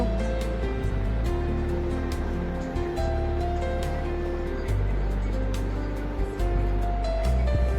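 Onion fries in oil in a pan with cloves, cinnamon and cardamom, a steady, dense sizzle at an even level with a low background hum and occasional small clicks from the pan.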